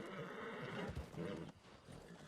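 A horse whinnies and hooves clip-clop along at a gallop in the video game Ethan Colt, fairly close, with no talking.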